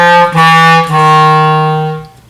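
A clarinet plays a few short low tones, then holds one sustained low E, played with the wrong fingering, that fades out, alone and close.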